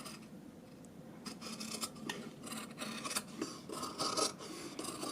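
Scissors snip fabric while a zipper is being sewn into a garment, a few quiet close crisp cuts and rustles scattered irregularly over about five seconds, with soft handling noise between them.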